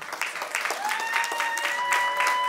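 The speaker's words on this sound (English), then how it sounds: "y'all go ahead and clap it up for Mr." Audience clapping at a live comedy show, a steady round of applause with whoops and shouts mixed in, sustained and fairly loud throughout.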